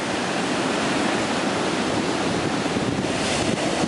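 Atlantic Ocean surf roars on a beach in Ocean City, USA, in a continuous broadband wash, loud and steady, with wind buffeting the microphone and no talking.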